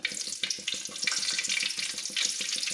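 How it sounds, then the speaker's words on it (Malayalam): Mustard seeds crackle and pop in hot oil for bitter gourd kichadi, a dense sizzling hiss broken by quick rhythmic pops close to the pan. "കടുക് പൊട്ടുന്നു ഇനി"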